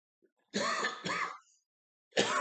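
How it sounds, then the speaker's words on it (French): Two quick, rough coughs or throat-clearings in a row, close and fairly loud, followed by a brief pause and another starting. "je tousse pas mal en ce moment"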